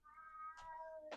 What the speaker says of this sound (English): oh, there comes my kitty